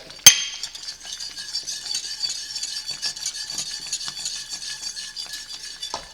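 A spoon stirs butter into thickened polenta in a pot, a soft, continuous scraping and swishing that opens with a sharp clink of metal against the pot, quiet and close with no talking.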